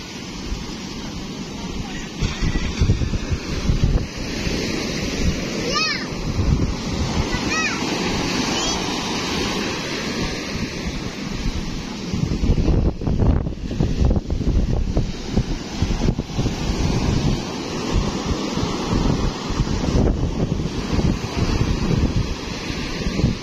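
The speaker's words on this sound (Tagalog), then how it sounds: "Sisipot didili ang bangka namin sa sobrang laki ng alon." Big ocean waves crash at the Bucana shore in strong wind, a loud, continuous surging roar with gusty wind buffeting the microphone. Voices are heard now and then over the surf.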